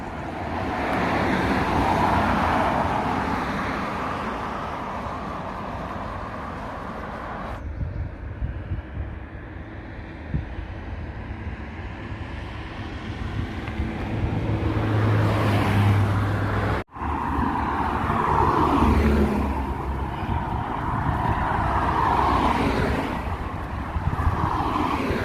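Cars sweep past on a main road in the UK at night, a continuous roar of tyres and engines rising and fading as vehicles go by, fairly close, with no talking.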